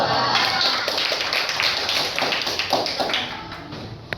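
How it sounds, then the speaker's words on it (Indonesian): Classroom applause for a group of four students at a vocational school, a dense steady patter of many hands clapping at close range that fades slightly toward the end. "Kita beri aplaus untuk kelompok 2."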